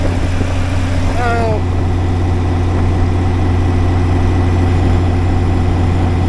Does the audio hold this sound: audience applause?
no